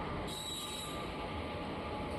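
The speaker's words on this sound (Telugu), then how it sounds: "ఇది చెన్నై ఎక్స్ప్రెస్" The Chennai Express, a fast train hauled by an old locomotive, runs along the line with a steady broadband rumble and a faint high squeal, heard moderately close throughout and without voices.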